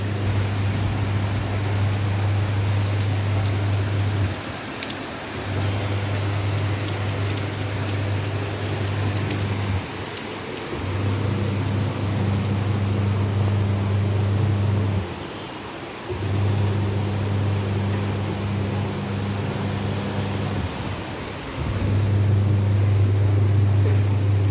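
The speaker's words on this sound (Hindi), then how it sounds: "आपको दिखाती हूँ यहाँ की बारिश।" Heavy rain falls steadily outside a house in a dense, continuous hiss, with a low droning hum running underneath that drops out at regular intervals.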